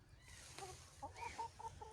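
Several chickens cluck softly in a short burst of rising, chattering calls, quiet and slightly distant over a low background hum.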